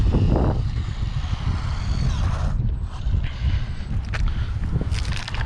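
A WLtoys 144001 brushless RC car is run at full throttle outdoors on loose ground, a loud buzzing motor whine with gravelly crunching and rushing wind noise, surging and dipping briefly before pulling hard again.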